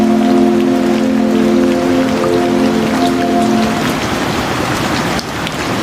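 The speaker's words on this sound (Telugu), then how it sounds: "ఇట్లా వర్షం స్టార్ట్ అయింది" Steady rain falling outdoors, a dense close hiss of drops on surfaces, with a low humming tone underneath for the first four seconds before it drops to rain alone.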